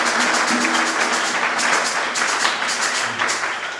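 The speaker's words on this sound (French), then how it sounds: "cela s'applaudit" Congregation applauding at a seminary anniversary Mass, a steady wash of many hands clapping throughout, dense and sustained, slowly easing toward the end.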